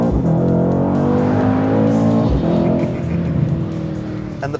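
Mercedes-AMG C63 S Coupe, 2018, V8 engine roaring loudly and steadily under hard acceleration, the pitch rising then dropping briefly at a gear change before climbing again, close and continuous, no talking.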